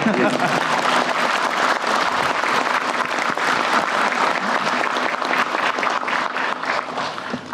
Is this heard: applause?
yes